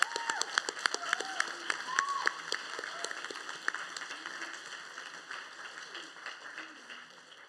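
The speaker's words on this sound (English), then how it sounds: "And a round of applause to all our girls graduating this year." Scattered clapping from a graduation ceremony crowd cheering graduating girls, fading gradually, with sharp tonal chirps and whistles layered over the claps.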